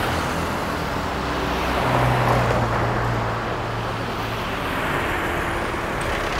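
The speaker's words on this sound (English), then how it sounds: "Traffic is really, really strong." Heavy street traffic on a busy Bangkok road, a steady loud roar of cars and buses with engine drone rising briefly in the middle, heard from the roadside with no talking.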